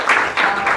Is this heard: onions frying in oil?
no